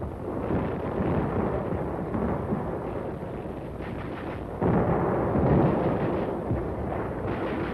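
Naval bombardment at Inchon in archival war footage, a dense, continuous rumble of heavy gunfire and explosions, loud and noisy, swelling midway, with no speech.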